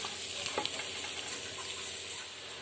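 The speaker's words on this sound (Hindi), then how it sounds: "ये थोड़ी देर आलू को फ्राई करके मेथी" Potatoes with turmeric, red chili and salt frying in a pan give a soft, steady sizzle with a couple of small clicks early on.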